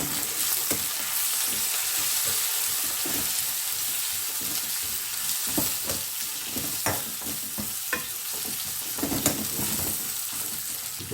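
Chopped tomatoes hitting a pan of frying onions sizzle steadily, with a continuous hiss broken by scattered pops and stirring scrapes throughout, close and fairly loud with no talking.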